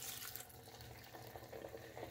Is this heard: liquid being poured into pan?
yes